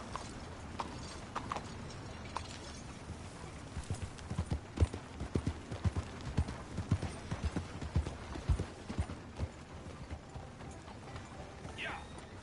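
Horse hooves clip-clopping in Red Dead Redemption 2, a quick, steady run of thuds with faint mechanical creaks and a brief whinny-like sound near the end, under occasional distant voices.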